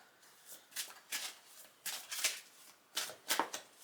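Tarot cards are shuffled in a series of quick, crisp riffling bursts, roughly six short flurries spaced about half a second apart, close and fairly quiet with no talking.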